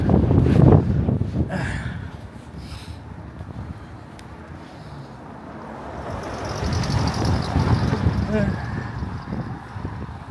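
Winter wind outdoors in the UK buffets the microphone in uneven gusts, rising and falling, while a person talks at times over the rushing noise.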